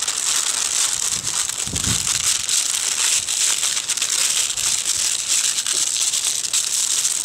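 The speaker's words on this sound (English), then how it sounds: "And the way you do that with parchment paper is you fold it in half." Parchment paper being folded in half, then folded again, giving a steady, close crinkling and crumpling rustle throughout, with a brief heavier crunch near the start of the fold.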